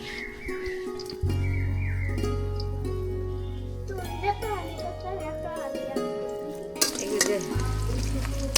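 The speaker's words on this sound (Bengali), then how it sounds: "এখন পেঁয়াজ আর কাঁচামরিচ তেলে দিয়ে ভাজি করতে আসি" Onion and green chillies fry in hot oil in a village kitchen for potato chops, giving a steady, close sizzle broken by stirring, with tonal music-like sounds over it.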